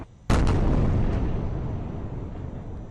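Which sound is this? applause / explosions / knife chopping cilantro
explosions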